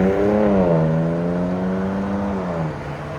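A 3.0L Hurricane inline-six in a 2025 RAM RHO, fitted with Dynomax race bullets and a BIGBOZ exhaust, revs close up and loud, its steady engine note swelling and then easing off over a few seconds.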